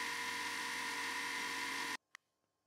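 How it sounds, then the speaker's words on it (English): Mini mill cutting a small relief into the edge of a ring, a loud, steady high-pitched whine of motor and cutter that stops abruptly, followed by a single sharp click in near silence. "I cut a small relief in the edge."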